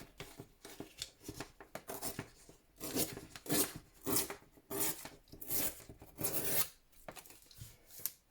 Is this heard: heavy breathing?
no